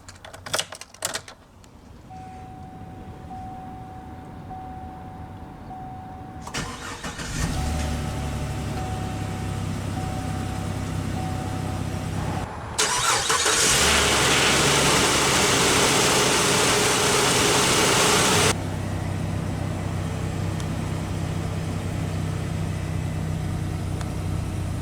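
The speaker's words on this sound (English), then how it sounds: "let's go ahead and start the engine." A 2021 Chevrolet Express 2500 cargo van with a 4.3L engine clicks, cranks and starts, revs up loudly for several seconds, then settles into a steady, even idle.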